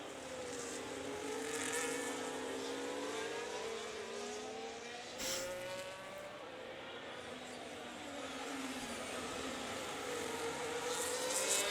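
Formula 1 style race cars, a Ferrari and a McLaren among them, in a racing game at the Spain round, engines whining and rising in pitch as they pass, steady and mid-distance with no voices.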